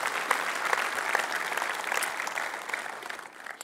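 Sustained audience applause at a tech conference opening keynote, thanking the registration desk volunteers; dense steady clapping from a large crowd, fairly even throughout and easing slightly near the end, with no talking.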